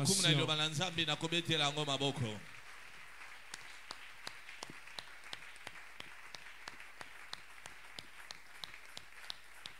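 A church congregation at a Sunday service applauds and acclaims, opening with loud voices cheering together for about two seconds, then scattered individual claps ringing out sparsely against a quiet room.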